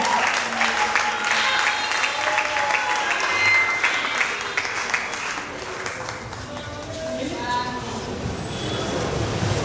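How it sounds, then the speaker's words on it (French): Sustained audience applause fills a hall at a national arts institute as a speaker is welcomed on stage, a steady dense patter of many hands at moderate distance. "Alors sous vos ovations, nous appelons Madame Acha pour sa troisième intervention."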